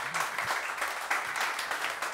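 An audience at a live stage show applauds, a dense, steady clatter of many hands clapping with faint cheers or voices mixed in, continuous through the short stretch.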